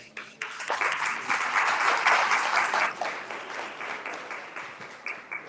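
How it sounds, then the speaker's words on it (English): Gala audience applauding the sponsors at a black-and-white themed charity event, a sustained crowd clapping that swells to a peak and then gradually thins out, with no voices over it. "You can give yourselves an applause."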